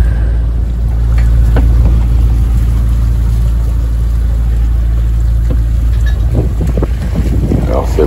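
A sailboat's engine drones steadily during an Atlantic crossing, a loud low rumble mixed with wind buffeting the microphone and the wash of water around the hull.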